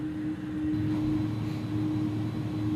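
An iniBuilds A300F freighter's jet engines in the X-Plane 11 flight simulator, a steady loud roar with a sustained tonal whine and no voices.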